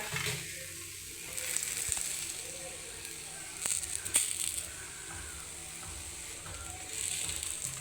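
Pearl millet adai cooks on a hot pan with a faint, steady sizzle that holds throughout, broken by a few light clinks and scrapes.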